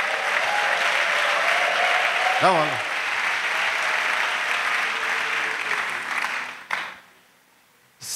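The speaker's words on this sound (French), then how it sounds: "Acclamation à Jésus-Christ." A church congregation applauds and cheers in acclaim of Jesus Christ, a loud sustained wash of clapping that fills the room for about six seconds, with a voice speaking briefly through it before the noise cuts off abruptly.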